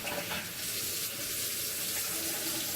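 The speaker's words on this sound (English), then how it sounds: "With fingertips pointed down, rinse off all soap thoroughly." Tap water runs steadily into a sink as soapy hands are rinsed fingertips-down in a restroom, a continuous close splashing hiss lasting throughout with no talk.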